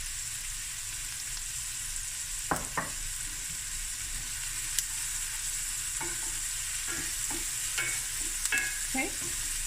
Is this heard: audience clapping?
no